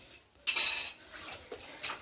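Metal utensils clink against dishes a few times, faint and close, with quiet pauses between the knocks.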